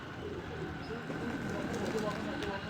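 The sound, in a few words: pigeon cooing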